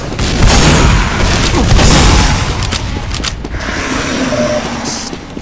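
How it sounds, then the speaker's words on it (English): Sticky bomb explosions in Team Fortress 2 on the payload map pl_rainbowride: loud, dense blasts and rumbling detonations fill the first few seconds, then fade into a quieter battle din with scattered sharp hits. "I hear stickies"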